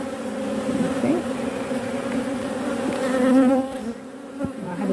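Honeybees drone in a dense, continuous buzz from an open hive close by. The pitch wavers as individual bees fly near.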